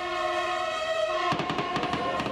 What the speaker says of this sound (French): Et c'est sous les pétards que Patrick entre dans sa dernière gare.